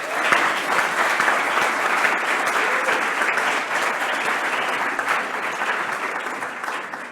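Sustained audience applause at an academic year opening ceremony, greeting a choir about to sing Gaudeamus Igitur; dense, steady clapping from a large crowd that holds loud throughout and eases slightly at the end.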